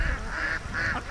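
Ducks at a lake giving two loud honking calls in quick succession, close by and alone without talk.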